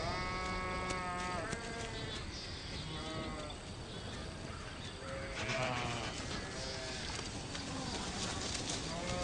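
A flock of sheep bleats repeatedly, several overlapping calls near and far over steady outdoor background noise, with no talking.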